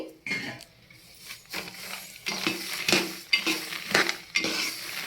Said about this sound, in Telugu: పల్లీలు వేసుకున్నామండి నువ్వులు వెంటనే తిప్పాలి